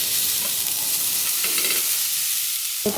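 Finely chopped cowpea leaves fry in a pan, Kerala style, with a loud, continuous close sizzle while a utensil stirs and scrapes through them, ending in a sharp clank.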